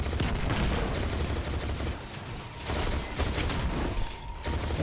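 Rapid auto rifle fire in the video game Destiny 2, loud sustained bursts with short pauses between them, dense and continuous.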